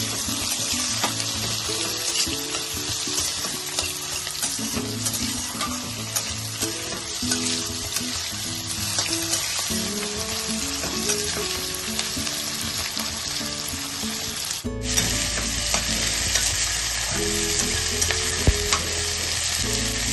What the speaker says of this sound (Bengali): এবার আমি এর মধ্যে টমেটো গুলো দিয়ে দেবো আর কাঁচা লঙ্কা গুলো দিয়ে দেবো। এবার সব একসাথে ভাজবো।